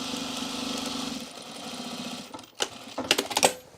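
A sewing machine stitching overall fabric runs in a steady, close-up whir for about two seconds, then stops, followed by a few sharp clicks and handling knocks.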